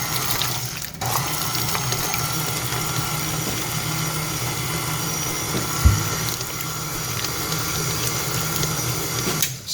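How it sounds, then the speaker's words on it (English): A KitchenAid stand mixer runs at low speed, stirring strawberry preserves into a donut batter, a steady close whirring drone with a brief knock partway through and a stop at the end. "strawberry preserves are going to go into this mix now. Just a low speed to get these 2 things mixed."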